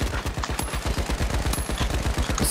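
Rapid automatic gunfire from a weapon in the video game The Finals, a dense stream of sharp, evenly spaced shots rattling continuously and loud up close for the whole stretch.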